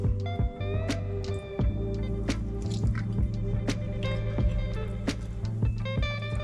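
Chili sauce squeezed from a bottle onto a greasy kebab, a run of wet squelches and sputtering squirts with sharp sticky pops, close and loud, irregular bursts over about six seconds.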